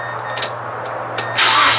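Mazda Miata NC fitted with a Tomei header, heard close up as a few brief starter cranks before the engine catches and settles into a loud, steady roar.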